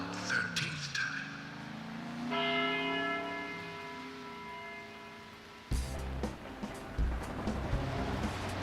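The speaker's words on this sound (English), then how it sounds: "12th time the bell did not stop ringing. It rang a loud 13th time." A bell in the video game Deadly Premonition rings out with a sustained, loud, ringing tone among game noise and rumbling effects, then gives way to a harsher mechanical clatter.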